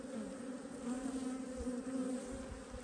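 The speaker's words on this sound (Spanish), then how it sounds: "Sí, están empezando a comer, pero muy pocas abejas." Honeybees feeding at a mountain apiary, a close, continuous droning buzz from several insects, steady and fairly quiet with slight swells in pitch as they move about.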